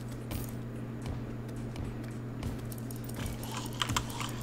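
Quick, irregular clicking of a computer mouse and keys while playing Terraria, faint, close and repetitive over a steady low electrical hum, with no speech.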